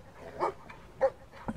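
In the game Brothers, a dog gives three short yips and whimpers, spaced evenly, each brief and moderately close, against a quiet background.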